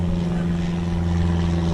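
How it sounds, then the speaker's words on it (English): A small single-engine propeller airplane drones overhead with a steady, even hum that holds loud and constant throughout, no voices over it. "You hear that airplane? It's about the fifth one that's went over since I've tried to record this video."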